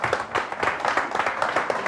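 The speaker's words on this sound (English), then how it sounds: "a round of applause for the gang" A small crowd at a Big Buck Night hunting event claps in a quick, dense, moderately loud round of applause that lasts about two seconds.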